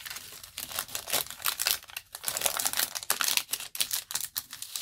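Basic paper is handled and creased while being folded for a junk journal, giving close, dense crinkling and rustling in quick irregular bursts with no voice over it.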